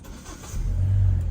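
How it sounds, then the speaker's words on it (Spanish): A 2013 Hyundai Sonata Y20 gasoline car engine catches and starts, rising into a low, steady idle rumble close by, heard alone. "Ahí el carro encendió."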